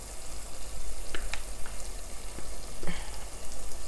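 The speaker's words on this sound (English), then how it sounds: "I'm going to add my concentrated stock from the beef" Concentrated beef stock poured into a pot of Ghanaian beef stew, giving a steady close-up sizzle and bubbling hiss with a few soft splashes and clinks, no voices.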